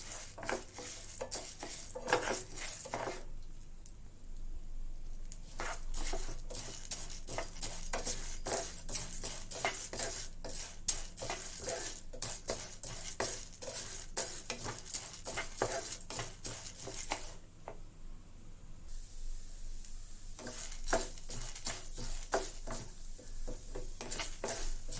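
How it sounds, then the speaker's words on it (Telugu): Tur dal (pigeon pea lentils) being fried in a little oil over a low flame, with a spoon scraping and stirring steadily against the pan, producing continuous clattering, rattling strokes with brief quieter pauses and a soft sizzle underneath. "లో ఫ్లేమ్లో కాస్త ఎర్రగా అయ్యేంత వరకు కందిపప్పుని వేయించుకోవాలి"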